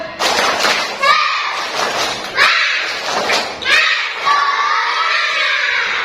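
A group of children in a classroom claps a rhythmic clap together in loud, uneven bursts while shouting and chanting, close by.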